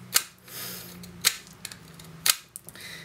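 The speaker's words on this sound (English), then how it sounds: "So you just sharpen your pencil like that." A pencil being sharpened by hand with a Stanley knife, giving three crisp scraping cuts at roughly one-second intervals with faint small clicks between, close and fairly quiet.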